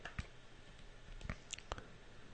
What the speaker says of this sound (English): So I'm going to type this in one more time.